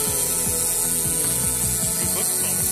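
A control panel is being cut with a power tool, a steady high whine with repeated ratcheting, grinding strokes underneath, fairly quiet, no talking.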